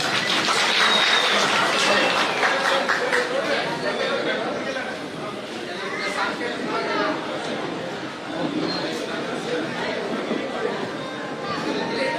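Party workers at a membership registration drive applaud in a steady, dense wash of clapping mixed with crowd chatter, sustained and fairly loud throughout.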